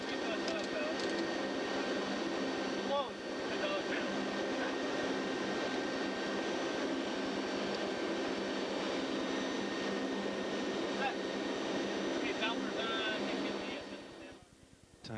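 P-3 aircraft turboprop engines drone loudly and steadily while the plane taxis, a dense continuous roar with a faint high whine, dipping briefly near the end.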